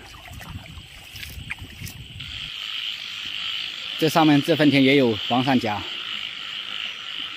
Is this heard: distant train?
no